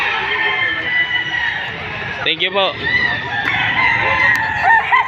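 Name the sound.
roosters crowing at a chicken sale, Padre Garcia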